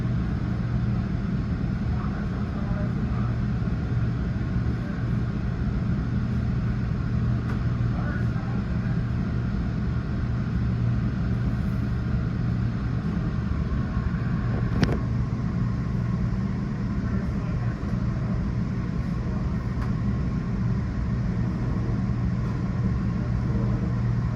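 A Metra Electric train approaches Kensington, giving a steady low rumble that holds evenly throughout with no clear peaks, heard alone without talk.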